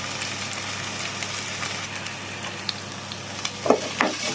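Garlic frying in a pan, stirred: a steady close sizzle with scattered scraping and clinking of the utensil, louder near the end.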